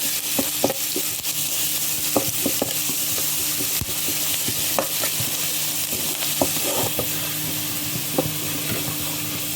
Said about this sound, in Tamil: பூண்டு நல்லா ஃப்ரை ஆகிட்டு